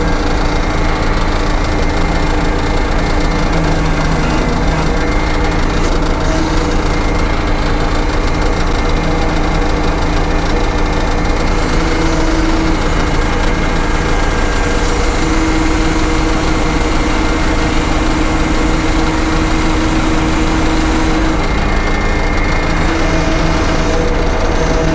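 Sawmill sawing pine siding, a loud engine drone with steady vibration that continues without a break, while the cut through the wood runs underneath.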